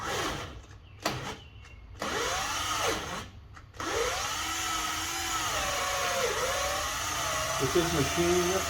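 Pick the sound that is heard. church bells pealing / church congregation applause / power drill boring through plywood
power drill boring through plywood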